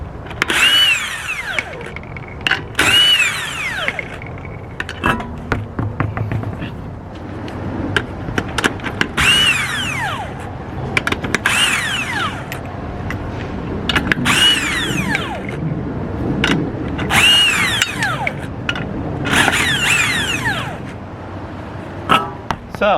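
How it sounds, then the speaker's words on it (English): An impact gun works car lug nuts off a wheel in repeated short, loud whirring bursts with rattling hammer clatter, separated by brief pauses and clanks of handling. "you can use, in my case, an impact gun"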